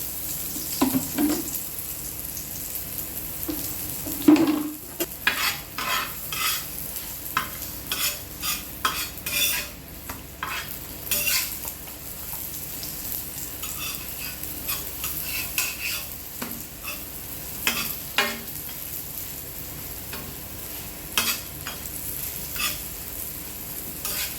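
Parotta fries in oil in a pan with steady sizzling, and frequent scraping and stirring clatters of a utensil on metal run close and continuous throughout.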